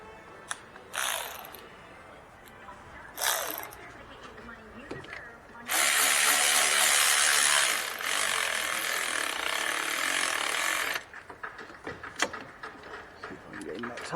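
A swivel-head 12 mm ratchet works the axle bolts during a right front CV axle replacement on a Volvo C70, giving short clicking bursts and then a long, steady run of rapid ratcheting before returning to scattered clicks.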